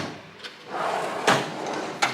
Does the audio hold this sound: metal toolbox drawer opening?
yes